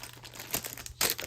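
Crinkling of a Yo-kai trading card pack's foil wrapper being torn open, several short crisp rustles and a louder crackle near the end, close up and fairly quiet, with no talking.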